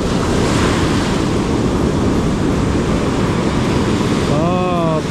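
Surf waves break in a continuous loud roar on a Japanese surf beach at low tide, with strong wind buffeting the microphone throughout and a brief tonal squeak near the end.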